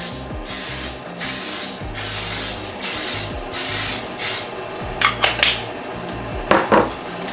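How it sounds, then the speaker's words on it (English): Cooking spray hisses onto a metal pie pan in several short bursts, followed by a few light metallic clinks as the pan is handled, close and quiet, with no talk. "Just going to spray this pie pan real good"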